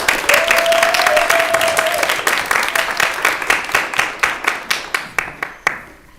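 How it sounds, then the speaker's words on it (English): Audience applause at an English thesis presentation event: dense clapping from a room full of people, steady at first, then thinning into scattered individual claps that fade out. "one more round of applause"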